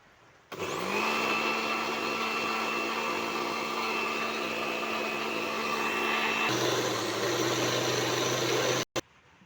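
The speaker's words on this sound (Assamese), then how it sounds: "এতিয়া ইয়াত মিক্সিত গুড়া কৰিম" A mixer grinder grinds ingredients into a paste, its loud steady motor whine running for several seconds with a brief shift in pitch partway through, then cutting off abruptly near the end.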